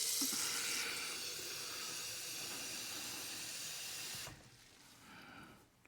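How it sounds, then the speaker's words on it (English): Water pours into a pot of turkey and dumplings in a steady, loud hissing rush that stops abruptly after about four seconds, leaving a quieter simmering hiss. "I'm gonna also add probably 2 cups of water."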